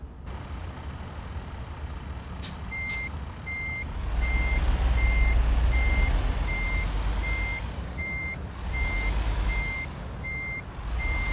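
Truck reversing beeps from a lorry in the video game Euro Truck Simulator 2, a steady evenly spaced series of electronic tones over a low engine rumble that swells in the middle, with no talking.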